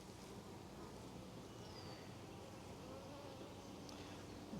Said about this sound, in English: Come on, bee, out of the way.